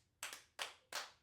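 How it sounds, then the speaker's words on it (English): Three sharp hand claps in a slow, slightly uneven rhythm, close and fairly quiet, each with a quick decay, with no talking. "Hey, give a hand clap."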